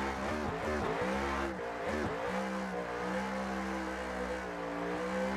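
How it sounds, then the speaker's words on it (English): A sim-racing car drifts sideways through a whole lap in a driving game, its engine droning loudly and steadily with brief revving dips early on, tires scrubbing continuously underneath. "I think we're going to be able to complete this entire lap with in one continuous drift"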